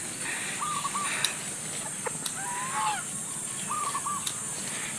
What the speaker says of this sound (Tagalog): Etong manok.